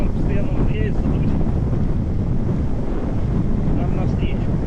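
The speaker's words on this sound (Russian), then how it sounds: "В общем, чтобы вы понимали, вот такой ветер постоянно." A strong, steady headwind blows during a long road ride across Kashubia, Poland, roaring loudly and continuously against the microphone with heavy low buffeting throughout.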